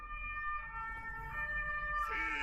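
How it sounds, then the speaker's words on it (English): Ambulance siren wailing outside at a moderate distance, its steady tones holding and shifting pitch as it passes, heard indoors over a low background hum. "I don't know if you can hear the sirens."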